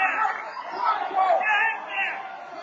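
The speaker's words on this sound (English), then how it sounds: "Crowd imploring for the Wildcats to get up" Spectators at a high school wrestling meet shout and call out in a loud, overlapping burst of voices, urging a Braintree wrestler on during a bout against Weymouth.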